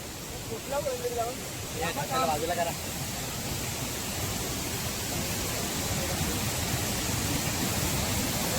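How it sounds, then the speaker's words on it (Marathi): A strong, overflowing village waterfall at Tulshi in Mandangad taluka gives a dense, constant roar of rushing water that fills the whole clip, with brief faint voices near the start. "पाणीचा प्रवाह बघा किती आहे बघा"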